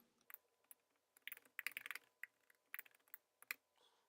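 Fingers tap out quiet bursts of keystrokes on a computer keyboard, clustered irregular clicks with brief gaps, heard close in a silent room.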